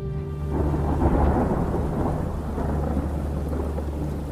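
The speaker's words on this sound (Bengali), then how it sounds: "কয়েক সেকেন্ডের মধ্যে বাইরে বাজ পড়ল কান ফাটানো শব্দে" A thunderstorm effect: a deep rolling thunder rumble swells in after a brief quiet start and sustains under a steady wash of heavy rain, loud and enveloping with no voices.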